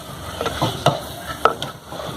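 Chicken curry masala with salt and spice powders being stirred in a pan, a spoon scraping and clacking against the metal in a few distinct strokes over a soft steady sizzle, close and moderately loud, with no talk.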